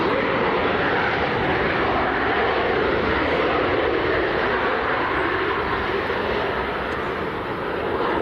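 A Boeing 737-800 jet at Leeds Bradford Airport gives off a continuous, loud engine roar that stays steady throughout, with no talk.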